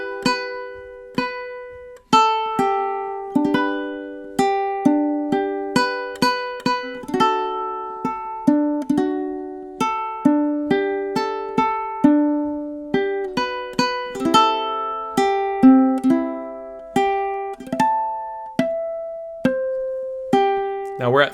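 Ukulele plucks out the melody of a song as a series of clear, separate notes and chords, each ringing and decaying, at a steady moderate pace, played alone and close.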